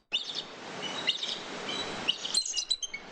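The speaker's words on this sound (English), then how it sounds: "How about how does the bald eagle sound?" A recorded bald eagle call comes through as a run of thin, high chirps and piping notes in repeated bursts, clear and fairly loud with no talk over it.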